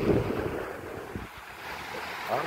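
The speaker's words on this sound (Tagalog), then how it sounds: "Ang alon ay isa-isa lang, pero malalim na yan dyan" Ocean waves surge and wash with a steady roar, mixed with wind buffeting the microphone; no voices.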